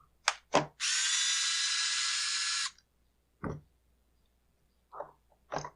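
A power tool backs out the starter-side anti-vibration mount screw on a Husqvarna 562XP chainsaw. It gives one close, high buzzing burst of about two seconds, with short knocks and clicks from handling around it.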